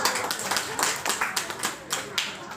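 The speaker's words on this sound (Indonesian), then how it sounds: "tepuk tangan dulu dong" Children's class clapping hands at a kindergarten in Tanjung Uban, Bintan, during a clean-living lesson: a steady run of sharp, fairly close claps that come in loose, slightly uneven bursts, with a faint voice now and then beneath.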